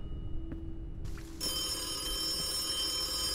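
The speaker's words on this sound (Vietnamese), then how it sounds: "Tiếng chuông điện thoại em ơi." A telephone rings in a horror video game set in a haunted rented room, a steady electronic ringing that starts suddenly and continues loud, with no voices over it.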